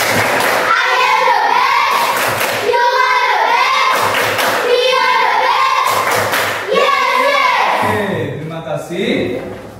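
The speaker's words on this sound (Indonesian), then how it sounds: "mari kita tepuk semangat dulu terlebih dahulu" A fifth-grade class performs the rhythmic 'tepuk semangat' spirit clap, sharp clap bursts in a patterned beat mixed with children's chanting voices, close and loud, ending in chatter.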